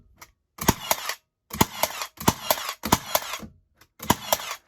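A Milwaukee M12 cordless brad nailer fires rapidly into a wooden stud, loud sharp clacking shots in quick bursts separated by brief silent pauses, close to the listener with no talking.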